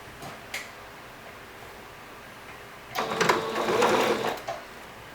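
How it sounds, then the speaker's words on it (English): A home sewing machine runs a basic straight stitch through fabric, with a couple of faint ticks first, then one steady burst of rapid mechanical clatter lasting over a second. "I'm going to run them through the sewing machine. I'm just using a basic straight stitch"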